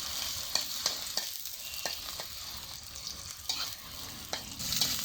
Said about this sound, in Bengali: এখন আমরা পেঁয়াজগুলোকে ভাজবো